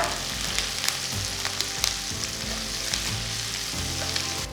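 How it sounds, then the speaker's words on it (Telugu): Green chillies and curry leaves sauté in hot oil in a pan for Rayalaseema-style puffed rice upma, giving a steady, close, dense sizzle with occasional crackles and no talking. "కొన్ని కరివేపాకులు చెన్ని వేసి ఫస్ట్ మనం సాటే చేసుకోవాలన్నమాట"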